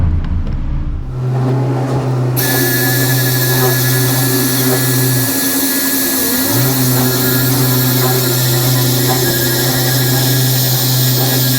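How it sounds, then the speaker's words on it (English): A rubber eraser wheel on a power tool stripping vinyl graphics off truck paint, a loud continuous motor whir with a brief dip midway, close and steady with no talk. "These rubber wheels make really fast work of graphics like that without damaging the paint."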